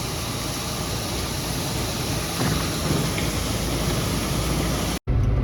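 Electric auger running while loading cattle feed pellets in cold, snowy farm weather: a steady, loud broadband whir and rush that holds evenly for about five seconds, then cuts out abruptly before resuming.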